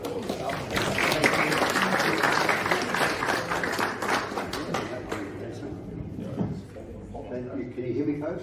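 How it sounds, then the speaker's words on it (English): A seminar audience gives a round of applause, full clapping for several seconds that thins out as voices and chatter take over toward the end. "give a round of applause"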